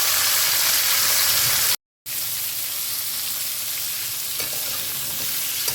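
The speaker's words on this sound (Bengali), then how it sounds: "হলুদ আর নুন দিয়ে আমি কিছুক্ষণ নাড়াচাড়া করে নেবো এটাকে" Drumstick and potato pieces fry over a high flame as they are stirred with turmeric and salt, giving a steady close sizzle with scraping. The sound cuts out briefly near the two-second mark, and no one speaks.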